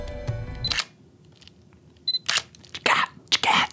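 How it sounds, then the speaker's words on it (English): A Sony A7C camera shutter clicks several times, crisp and close, with an electronic beep near the start and quiet pauses between shots. "listen to the sound of the shutter"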